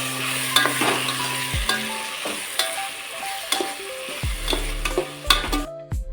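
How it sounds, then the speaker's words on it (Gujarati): Spices with turmeric and salt sizzle in a pan as a spoon stirs and scrapes in quick, uneven strokes, close up with no voices. "હવે આપણે આને હલાવી નાખીશું"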